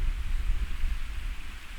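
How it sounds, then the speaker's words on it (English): Wind blows on a mountain trail in the Catskills' Big Indian Wilderness, a steady low rumble buffeting the microphone for a couple of seconds with no voices. "Getting kind of windy up here."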